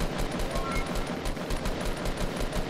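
Rapid automatic gunfire from the video game Fortnite, a steady stream of sharp repeated shots filling the whole moment, loud and close with no talking over it.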